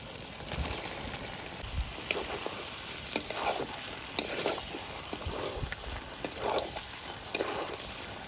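Mutton curry, its oil already separated, is stirred in a pan with freshly added potatoes: steady low sizzling with repeated scraping spoon strokes and sharp clinks at a loose rhythm, close up and without talk.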